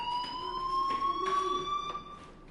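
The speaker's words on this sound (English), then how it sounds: "Hey, do you hear that fire alarm? That means you should be outside." In the video game Life is Strange, a school fire alarm sounds continuously, a loud, steady electronic ringing tone held throughout without pause, with faint background noise and no speech.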